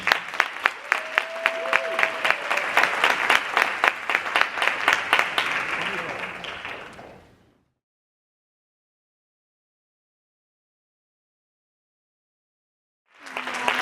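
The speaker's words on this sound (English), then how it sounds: "Please stand and give a hand for our keynote speaker, Dr. Winkler." An audience at a Coppin State social work pinning ceremony gives sustained applause for keynote speaker Dr. Winkler, dense clapping with a tone underneath that fades out, then silence before a brief return of sound at the end.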